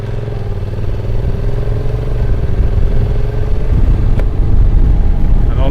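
A Honda NC750X motorcycle engine runs close by, a throbbing hum that grows louder and rougher as it sets off, with some clatter and whirring and a voice briefly under it.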